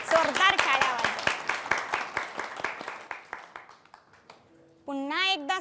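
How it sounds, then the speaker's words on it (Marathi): Audience clapping at a devotional television programme on the Ashadhi Wari pilgrimage, a run of loud hand claps that thins out and fades over about four seconds, followed by a brief tonal burst at the end. "एकदा जोरदार टाळ्या वाजवा."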